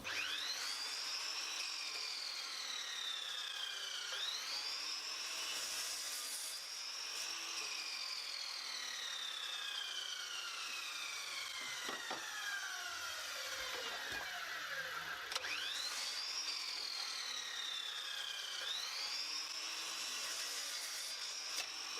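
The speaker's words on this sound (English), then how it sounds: "I've set the lid up in the laser to engrave the words Caroline and Anthony." Laser engraver burning lettering into a wooden box lid made from old ash floorboards, a steady whining hum with repeated sweeping pitch glides as the head moves back and forth, quiet and continuous with no talk.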